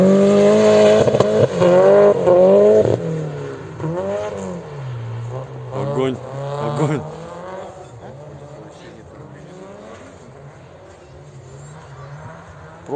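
A Subaru slides sideways in a drift, its engine screaming and bouncing off the rev limiter in loud, wavering bursts that ease into a lower drone; voices talk over it.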